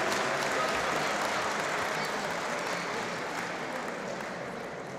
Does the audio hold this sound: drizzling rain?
no